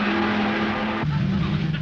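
A Rover SD1 3500 race car roars past at speed, its loud engine note steady then dropping sharply in pitch as it goes by, with faint tyre noise and a commentator talking over it.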